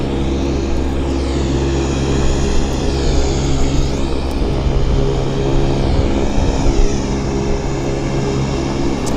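An airliner taxis at Vancouver airport, its engines producing a loud, steady roar with a rising and falling turbine whine close by, filling the whole stretch without talk.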